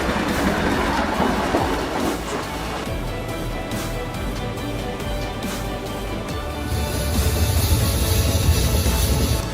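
A snow-clearing train with a rotating disc at the front moves along a snow-covered railway track, a loud, continuous rumble with rail clatter and steady mechanical noise throughout.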